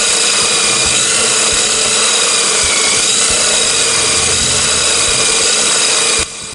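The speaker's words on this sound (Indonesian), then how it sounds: "Pemusnahan berbagai barang bukti itu dilakukan dengan cara dipotong-potong menggunakan gerindra" An angle grinder cuts through confiscated evidence such as motorbike parts, phones and tools like machetes, hoes, crowbars and saws, giving a loud, steady, harsh grinding whine close by that runs without a break and then cuts off at the end.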